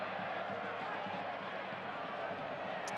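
Soccer stadium crowd at a New Mexico United match reacting to a yellow card for a challenge, a steady broad roar of many voices filling the whole stretch at constant loudness.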